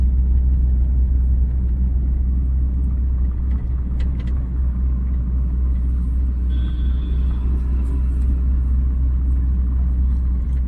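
A car engine runs steadily in third gear during a driving lesson, a constant low rumble from inside the cabin with faint road noise and no talking over it.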